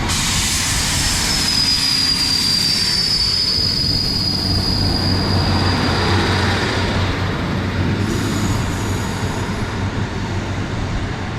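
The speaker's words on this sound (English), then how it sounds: "Gonna watch the train go" Transport for Wales Class 150 train pulling out of Rhoose Cardiff Airport station, a loud rumbling roll with a long, high wheel squeal drawing out and fading as it moves off.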